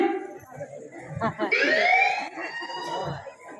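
A wailing ambulance siren rises and falls over a noisy street, with people talking and shouting loudly over it.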